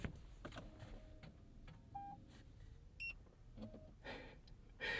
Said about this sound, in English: it beeps once, and then you also heard the dash cam beep too, just boop, beep